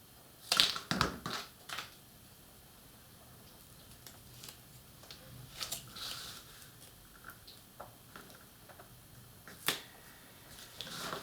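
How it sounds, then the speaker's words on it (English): A joining strip is cut for a model house build. The clip has sparse, close clicks and light scraping cuts, bunched at the start and scattered over about eleven quiet seconds with no talking. "So I'm just going to cut a joining strip here."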